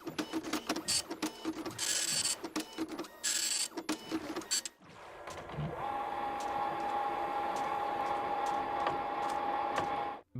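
A printer in a video game office runs loud and close with rapid mechanical clatter and whirring bursts, then settles into a steadier hum with a faint high tone until it cuts off.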